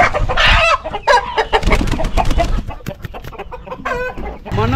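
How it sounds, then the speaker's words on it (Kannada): Native country chickens kept beneath a sheep shed on a farm cluck and crow loudly and close by, with busy overlapping calls and a rooster's crow rising through the flock over a few seconds. "ನಾಟಿ ಕೋಳಿನ ಸಾಕ್ತಾ ಇದ್ದಾರೆ."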